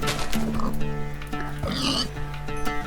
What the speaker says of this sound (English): There are pigs as well.